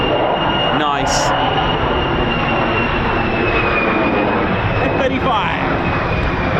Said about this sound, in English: F-35.